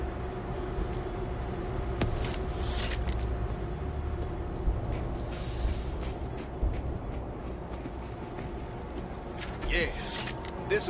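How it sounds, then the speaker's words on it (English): A train starts up and rumbles along in the video game World War Z, a continuous low mechanical rumble with scattered clanks and bursts under game noise and voices. "Start up the train!"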